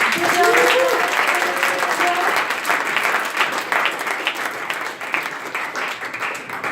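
An audience at a fintech Startup Weekend closing ceremony in Geneva applauds the competing teams with sustained, dense clapping that stays loud and steady throughout, with a brief voice heard near the start.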